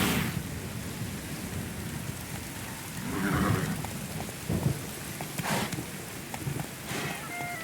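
Steady rain pours down in Witcher 3, a constant hiss broken by low rolls of thunder, with occasional horse movement audible beneath the storm.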